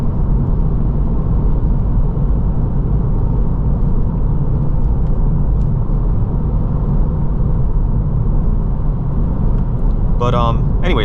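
Inside a 2023 Acura Integra A-Spec on a narrow winding road, a loud, constant rumble of road and engine noise fills the cabin. A brief voice is heard near the end.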